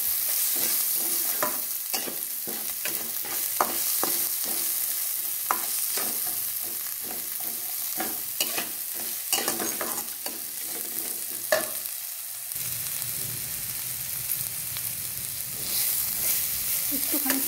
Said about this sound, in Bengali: আর লঙ্কা কুচি দিয়ে দিলাম। এবার এটাকে একটু ভেজে নেব।